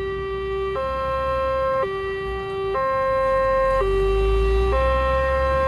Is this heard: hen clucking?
no